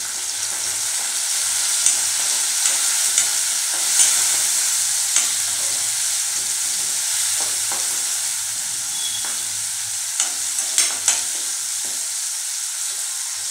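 Chopped cabbage and tomato for a dry Marathi-style bhaji fry steadily in a pan, a continuous close sizzle broken by scattered scrapes and clinks of stirring, with no voices.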